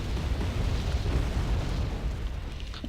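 Wargame AirLand Battle artillery fire, BM-30 Smerch rocket launchers pounding a target, rendered as a continuous, loud rumbling roar of overlapping explosions with no distinct breaks throughout.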